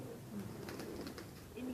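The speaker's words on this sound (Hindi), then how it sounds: "ये कबूतर कलसिरा कहलाए जाते हैं।" Soft, low cooing of Kalsira pigeons (a Saharanpuri breed) murmurs close by beneath a faint voice, with a few rustling and fluttering sounds in the background.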